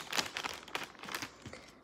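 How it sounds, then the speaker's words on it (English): Plastic bag handled up close, with bursts of crisp crinkling and rustling in an uneven rhythm, fairly quiet with no voices. "It'll be just a plastic bag."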